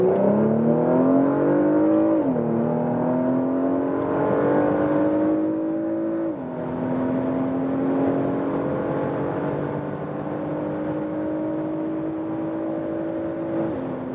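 A Porsche Macan S with a 2.9-liter V6 accelerates hard on a German motorway, heard from inside as a rising engine drone. Clear upshifts break the climb, over steady road and wind noise, with no voices.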